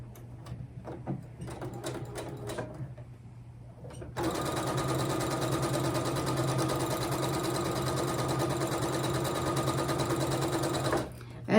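A sewing machine runs steadily for about seven seconds, stitching fabric in a continuous close whir, after a few quieter stops and starts at the beginning.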